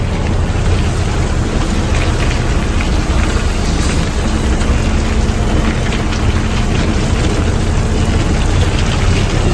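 Heavy rain pours down without pause at night in Dharmapuri, Tamil Nadu, a loud, dense, continuous hiss with a low rumble beneath it and no voices.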